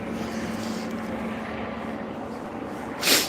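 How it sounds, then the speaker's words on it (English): A helicopter flies overhead near a small municipal airport, its steady droning rumble continuous and moderately loud throughout, with a brief brighter swell near the end. "It's an actual helicopter."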